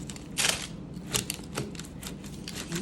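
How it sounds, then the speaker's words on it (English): A trusty knife saws through regular dinner rolls for crockpot focaccia, giving a few crisp, scratchy crunching strokes close by, with no talking. "Take a trusty knife, and you cut"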